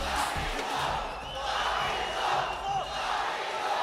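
A crowd at an MFN fight night cheers and shouts in a swelling, rolling roar, loud and close, rising and dipping over a few seconds.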